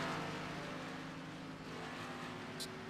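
Xfinity Series stock cars circle Road America in a racing game, a brief, continuous engine drone with layered harmonic whine and no speech.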